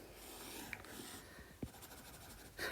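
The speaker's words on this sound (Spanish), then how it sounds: "vamos a dibujar una célula acá" Marker or chalk strokes on a board while sketching a smooth muscle cell in a classroom lecture; faint, scratchy scribbling with a few brief sharper marks, quiet and close.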